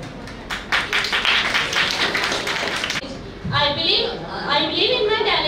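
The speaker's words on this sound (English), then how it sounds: "Let us applaud together" Clapping and applause from students in a school assembly for a class 10 section, a dense burst of hands lasting a few seconds before thinning out as a voice begins speaking.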